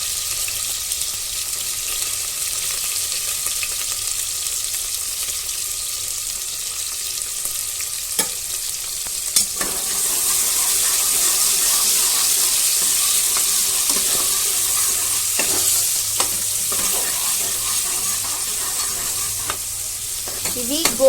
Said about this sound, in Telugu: ఆయిల్ వేడెక్కిన తర్వాత ఇప్పుడు ఇందులో నేను సన్నగా కట్ చేసుకున్న ఆనియన్స్ వేస్తున్నా.